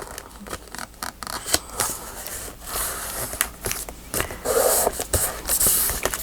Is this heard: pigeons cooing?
no